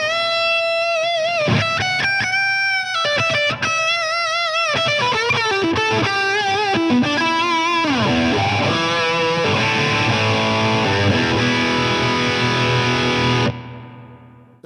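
Heavily distorted electric guitar plays alone through a very high gain pedal, sustained chords and bent notes ringing out with thick saturation, then a dense chugging section before it cuts off.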